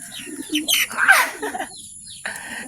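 A pet pigeon coos close by in a few soft, throaty bursts mixed with brief chirpy notes, loud and alone.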